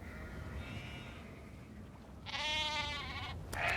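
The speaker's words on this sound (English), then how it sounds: "Go away, sheep." A sheep in the video game Nancy Drew: The Haunting of Castle Malloy gives a loud, wavering bleat lasting about a second, followed by a brief second bleat, over a low steady ambient background.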